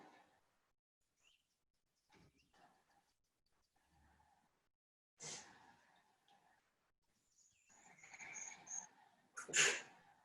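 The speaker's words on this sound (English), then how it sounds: "that's a lot of sneezes though" Several sharp, explosive sneezes in a quiet room, spaced apart with faint breathing between them, the last ones loudest.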